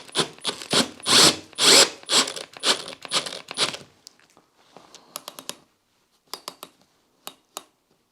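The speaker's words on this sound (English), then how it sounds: "let's go get a drill." Short bursts of a power drill whirring, several in a row, into a plywood-lined wall, then quieter clicks and taps of a tool toward the end.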